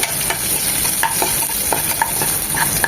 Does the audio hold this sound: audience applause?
no